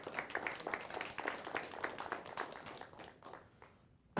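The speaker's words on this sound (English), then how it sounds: "one more round of applause for all of our nominees" Audience applause for award nominees at a Teacher of the Year and School-Related Employee of the Year ceremony, a steady stretch of many hands clapping, distant and soft, then tapering off.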